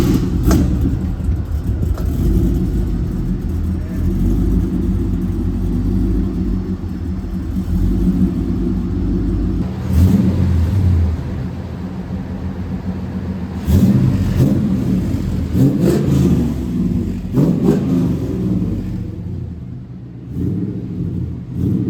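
A car engine starts back up and keeps revving loudly and close by, its rumbling idle broken by repeated bursts of acceleration, with no talk.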